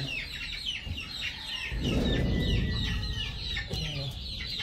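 Chickens cluck and chatter inside a coop, with overlapping bird calls, a few higher squawks and a rustling burst of movement midway, all fairly close.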